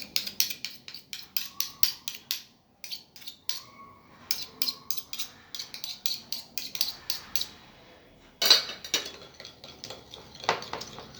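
Utensils clatter against a bowl while coleslaw is tossed and mixed, a quick series of close, sharp scraping clicks in rhythmic bursts with a brief pause and one louder knock.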